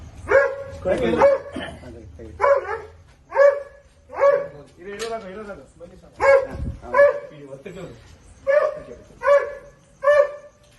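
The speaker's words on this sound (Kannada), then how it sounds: "ನಾಯಿ ರ್ಯಾಶ್ ಆಗ್ಬಿಟ್ಟಿತ್ತಲ್ಲ" A dog barks repeatedly at a cobra found inside a compound, sharp loud barks spaced about a second apart at close range, with a person speaking briefly between them.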